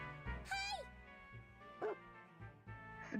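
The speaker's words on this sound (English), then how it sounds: "Strelka barked." Strelka, a puppy, lets out a few short, high yips and whimpering barks, spaced irregularly with brief pauses between them, close and fairly quiet.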